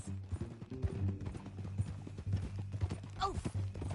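Horse hooves clip-clop at a steady walking rhythm in Red Dead Redemption 2, close and even, with people talking over them.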